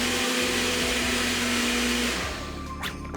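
A blender runs steadily while pureeing cooked potatoes and leeks for vichyssoise, a loud, continuous motor whir that winds down near the end, heard alone.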